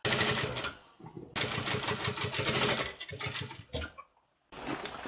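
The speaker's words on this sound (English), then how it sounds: "Then I am going to sew round this top hat." A sewing machine stitches fabric for a wide summer hat in several bursts of rapid, even clatter, pausing briefly between runs and stopping once near the end before starting again; close and moderately loud, with no talk.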